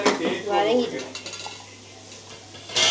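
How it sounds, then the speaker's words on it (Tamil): Onions sautéing in a pan, heard mainly as close metallic scraping and clattering of a spoon against the pan over a faint sizzle, ending with a louder clink. "அடுத்து வந்து இங்கே இன்னும் வெங்காயம் வதங்கிக்கிட்டே இருக்குது."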